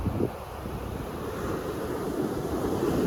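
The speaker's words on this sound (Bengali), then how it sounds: "তবে সমুদ্রের গর্জনটা ভালোই আসছে" Sea waves roar onto the empty Dhabaleswar beach as a continuous low rumbling surf, mixed with heavy wind buffeting the microphone, and no voices.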